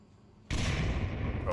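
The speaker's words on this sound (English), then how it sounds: "nice little nade toss out" A grenade goes off in the VR shooter Onward, a sudden loud, close blast that cuts in abruptly and stays as a dense, roaring rumble after a short quiet lead-in.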